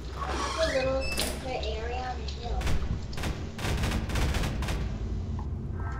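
Gunfire in a multiplayer video game, a run of sharp rapid shots crackling in the second half at close range, with people chatting and shouting over the game sounds.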